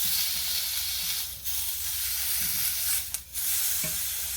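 Sides of a filet mignon searing in a hot pan, a continuous bright sizzle that dips briefly a couple of times as the steak is moved, with no talk.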